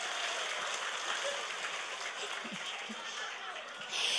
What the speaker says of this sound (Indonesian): mulai tepuk tangan maning